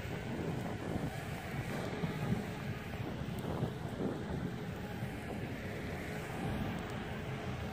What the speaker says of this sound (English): So it is strong enough to fight a little wind. This is a lot of wind here.